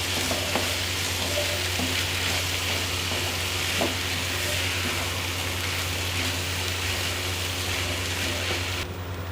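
Daal mash mixed with fried masala sizzles and hisses steadily in a pan, a dense even crackle close up with a few faint stirring knocks.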